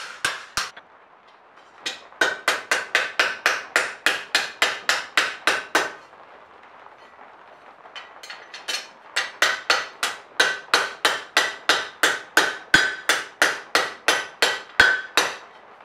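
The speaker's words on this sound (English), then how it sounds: "fair amount of fussing around with the hammer and anvil is required" Rapid, ringing hammer blows on metal against an anvil while making a cowbell strike in two long bursts of about twenty hits each, separated by a short pause, loud and close.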